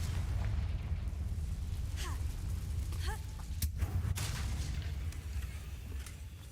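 Confringo fire-blast spell cast in Hogwarts Legacy: a few sharp pops and crackling bursts over a steady low rumble of game ambience, moderately loud.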